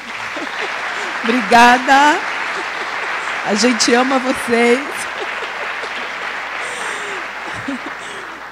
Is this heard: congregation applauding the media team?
yes